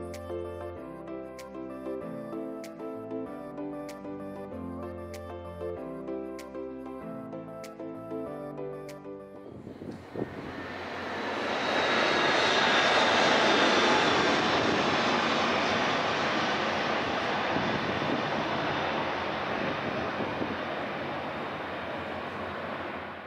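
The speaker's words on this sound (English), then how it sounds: "we have some planes flying above us with not that much altitude, and of course we're gonna listen to it" Following a stretch of music, airplanes near Barcelona airport fly low over a cruise ship, and a loud, broad jet roar swells and then slowly fades.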